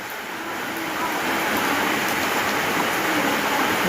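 Heavy monsoon rain pours down at a rural home, a loud, unbroken hiss that swells slightly after the first second and holds steady, with no talking.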